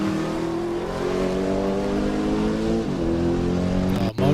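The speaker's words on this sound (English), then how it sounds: "Motor sounded sweet on that IROC Z, coming through George's corner and up to the W's" Chevrolet IROC-Z race car engine climbing Pikes Peak through George's corner toward the W's, a steady loud drone with rising and shifting revs and a brief dip near the end, heard from close by.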